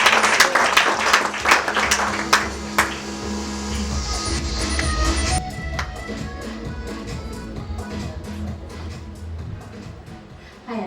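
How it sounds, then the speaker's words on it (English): Loud applause from an audience at the P.A. Awards 2019 ceremony, dense clapping at first that thins out and trails off into a lighter scattered patter. "A big hand of applause for"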